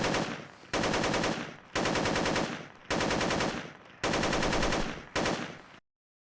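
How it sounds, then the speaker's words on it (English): Several bursts of rapid automatic AK rifle fire in Project Reality, each lasting about a second with short pauses between, loud and close, no voices. "Now it's time for Nomad Project Reality sound of similar AK."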